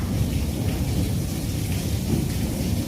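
Steady heavy rain pours with a deep rumble of thunder rolling underneath throughout, loud and continuous, no voices.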